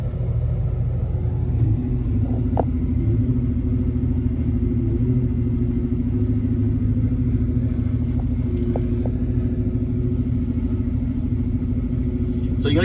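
Horsch Leeb 6300 VL self-propelled sprayer with its booms unfolding: a steady, loud low engine rumble with a sustained hydraulic whine and a few faint clicks and clanks, no talking.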